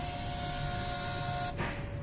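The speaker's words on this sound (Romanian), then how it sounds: "Am printat calibrarea." A Sherwood 410 flame photometer controller's printer runs a calibration printout: a steady mechanical whir with a thin sustained tone, shifting character near the end, close and alone.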